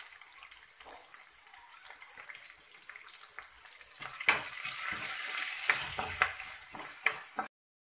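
Chopped onion and curry leaves hit hot oil with mustard seeds and jeera in a pan. A steady sizzle swells louder partway through, with intermittent scraping and clatter as the pan is stirred.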